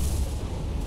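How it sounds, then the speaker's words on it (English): A deep, heavy boom rolls out from a torpedo striking a convoy ship in the War on the Sea naval game, a single dull low-frequency blast that stays loud for just under a second. "Oh, our last shot got an explosion."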